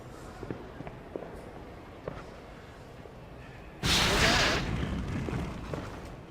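A fire spell cast in the Harry Potter and the Order of the Phoenix video game: a sudden loud whooshing burst of flame that starts abruptly and roars steadily for a couple of seconds after quieter footsteps and ambient game sounds.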